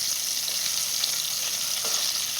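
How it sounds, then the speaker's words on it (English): Homemade KFC-style chicken pieces fry in hot oil, a loud, continuous bright sizzle and crackle heard close up without any talking. "The rest of them go and fry a little bit more."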